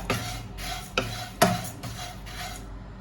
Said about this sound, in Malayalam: നമ്മൾ ഈ മട്ട അവിലുണ്ടല്ലോ അതിട്ടിട്ടൊന്ന് നന്നായി ചൂടാക്കി എടുക്കണം.